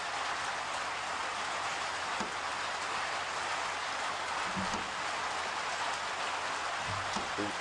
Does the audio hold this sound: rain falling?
yes